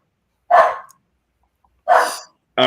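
Dogs barking close by: three loud, sharp barks, each separated by a stretch of silence, the last one cut short at the end.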